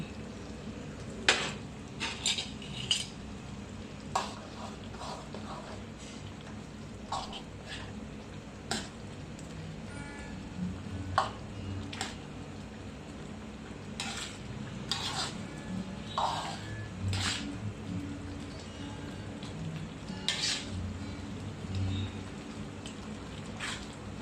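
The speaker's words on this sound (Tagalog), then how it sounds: "Halo mo yung itlog." Eggs being stirred and mixed into a simmering pot, with scattered soft clinks and scrapes over a steady crackling, bubbling hiss that continues throughout.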